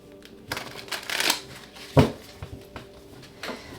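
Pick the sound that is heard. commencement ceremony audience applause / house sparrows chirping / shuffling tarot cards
shuffling tarot cards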